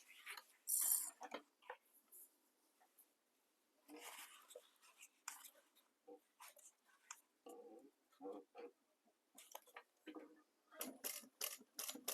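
A domestic sewing machine stitches along the long raw edge of a fabric project, producing short bursts of mechanical clatter and ticking in an irregular stop-start rhythm, close and fairly quiet with no talking.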